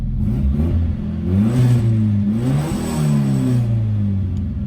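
A 1988 Mitsubishi Starion engine, fitted with a two-step launch control, revs up and down in several loud, close rising and falling sweeps with no talking.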